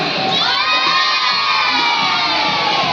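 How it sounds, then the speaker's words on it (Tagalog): A crowd of children at a store event shouts together in a loud, sustained cheer, high-pitched voices blending into a single excited roar for about three seconds. "Kidzuna, everyone shout, hooray!"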